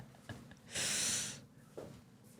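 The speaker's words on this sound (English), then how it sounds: "I need to blow my nose." A person blows their nose once in a loud, forceful, breathy burst lasting about half a second. Quieter sniffs and breaths come before and after it, close by, with no talking.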